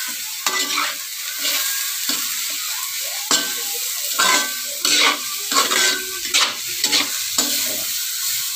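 Tipansip gisado sautéing in a pan as a utensil stirs it, with a steady sizzle and repeated scraping strokes at an irregular rhythm, close and fairly loud.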